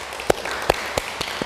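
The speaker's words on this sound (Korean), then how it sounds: "법왕사 주지 실상 스님께 큰 박수 한번 부탁드리겠습니다" At a Buddhist dharma assembly, a handful of separate, scattered hand claps ring out one after another with gaps between them, sounding more like a sparse smattering than full applause.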